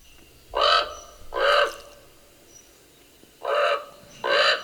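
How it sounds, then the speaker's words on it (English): A common raven, a corvid close to the crow but more guttural, gives four loud, harsh calls in two pairs separated by a pause, each note drawn out and clear against a quiet background. "That's the raven. Yes, the common raven."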